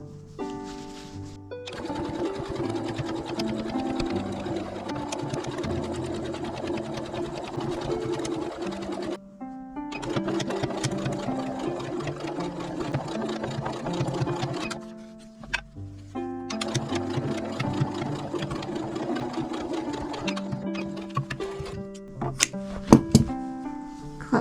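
A sewing machine stitching a fabric seam in long, steady bursts of rapid mechanical ticking, pausing briefly between runs, with soft music underneath.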